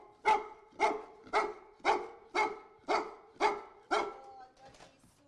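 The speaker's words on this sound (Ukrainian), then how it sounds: "Ось так нетерпляче та впевнено службовий пес привертає увагу до своєї" A German shorthaired pointer rescue dog, training at a search find, gives eight loud, evenly spaced barks close by. The barking fades slightly toward the end, and no one speaks.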